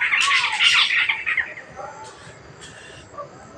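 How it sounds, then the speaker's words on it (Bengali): A bird calls from a tree at dusk in a rural village, giving a burst of loud, harsh squawks close by for about a second and a half, then a few fainter, scattered calls. "ওই গাছটার মধ্যে পাখিটা ডাকাডাকি করতেছে"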